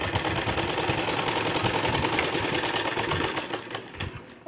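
Electric sewing machine stitching piping onto a blouse, a rapid rhythmic mechanical clatter of the needle running steadily at close range, then slowing and stopping near the end.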